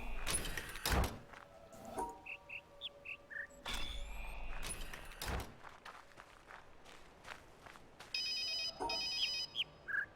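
A phone ringtone chimes in a repeating electronic pattern near the end, alongside footsteps, door or sliding sounds and clattering handling noises indoors.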